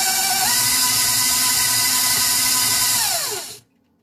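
An electric hand mixer beats butter for baking, a loud steady whine that shifts pitch partway through and then winds down to silence near the end, with no speech.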